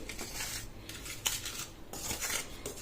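Chili powder and salt being mixed in a bowl for a grated raw mango chutney, heard as close, scratchy spoon scrapes and light clinks against the dish in uneven bursts.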